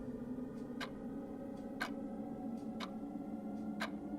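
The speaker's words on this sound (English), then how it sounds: "rhythmic ticking of the clock" Soft, steady ticking of a clock, evenly paced about once per second, faint against a low background hum.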